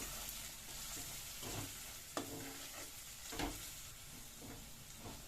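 Cumin powder, coriander powder and garam masala are stirred into a black chickpea curry in a pan, giving a quiet sizzle with occasional scraping strokes of a spoon.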